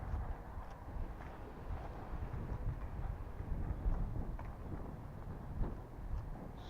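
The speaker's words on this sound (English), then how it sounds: "it's a little bit windy, but it's not raining." Steady outdoor wind buffets the microphone as a low, continuous rumble, moderately quiet and without talk.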